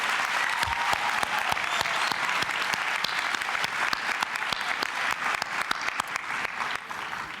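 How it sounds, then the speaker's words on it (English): Audience at a university spring graduation ceremony applauding steadily, a sustained even wash of many hands clapping in a large hall, heard from some distance with no speech over it. "would you give them a round of applause"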